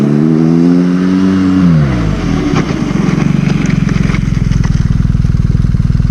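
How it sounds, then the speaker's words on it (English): BMW GS motorcycle braking hard with ABS on a road, the engine note falling sharply as it slows, then a rapid pulsing, stuttering chatter from the brakes and tyre, loud and close, with no talk over it. "So if you are in a situation, you can get maximum braking out of the bike. So here comes the first one."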